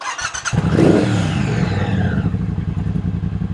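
A chrome Triumph Speedmaster with cut exhaust pipes rides off, its engine rumbling loud and close and then pulling away under throttle in a steady, throaty drone.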